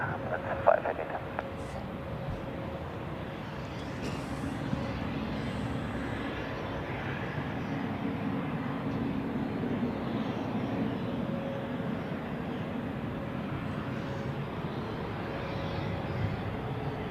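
A small DRF Luftrettung aircraft on approach to land at Zurich Airport, a faint, distant engine drone holding steady under wind and background noise, with a voice talking briefly at times.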